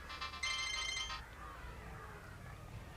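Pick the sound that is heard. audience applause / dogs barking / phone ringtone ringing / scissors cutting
phone ringtone ringing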